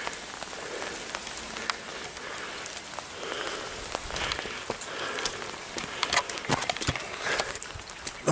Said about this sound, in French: La pluie, c'est trop bien.